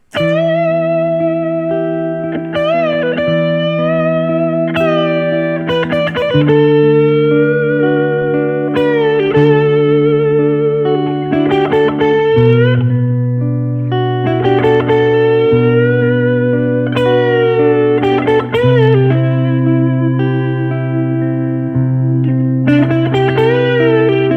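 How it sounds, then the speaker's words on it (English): An electric guitar with heavy distortion plays sustained, ringing notes and slow melodic phrases over a steady droning chord, loud and alone. "I have some distortion on. And I'm going to play a little bit"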